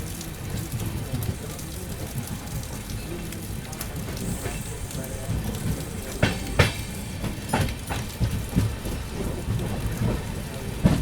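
The 22361 Patna Amrit Bharat Express runs through heavy rain, giving a steady, dense rumble and hiss with scattered sharp clacks and knocks toward the end.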